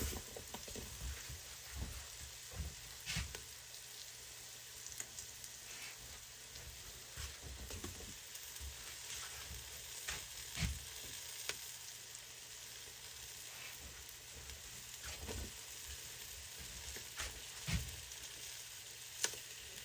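Onions fry in a pot with a soft, constant sizzle and crackle, broken by scattered stirring clicks and scrapes, quiet and without talk.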